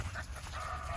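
A dog panting steadily outdoors during a field training session, rapid breathy huffs close to the listener with low wind-like rumble underneath, no talking.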